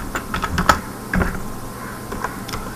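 Keys clatter on a computer keyboard as code is typed, a few light, irregular clicks and taps, close and fairly quiet, with no voice.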